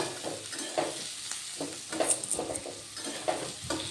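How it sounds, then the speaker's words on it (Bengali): Onion and garlic, with chopped green chili and dry red chili, fry in a pan for a prawn and taro leaf dish. The close crackling sizzle comes with repeated spatula scrapes and clinks in an uneven stirring rhythm, and no one speaks. "পেঁয়াজ রসুনটা ভালোভাবে ভেজে নিতে হবে।"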